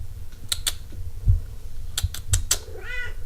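A cat meows softly near the end, after a few sharp clicks and low thumps in a quiet room.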